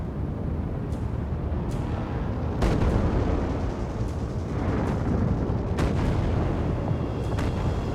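Gunfire in the video game Lost Skies: repeated shots spaced about a second apart crack over a steady rumbling wash of background game noise, moderately loud and unbroken by talk.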